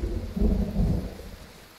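A short, low rumble of thunder rolls in, swelling and fading within a couple of seconds, fairly soft and distant with a faint rain-like hiss behind it.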